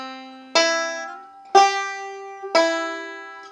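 A beginner banjo phrase on a Redwing banjo: three bright, ringing plucked notes about a second apart, each sustaining and fading, with a slide connecting the pitches, played alone and close.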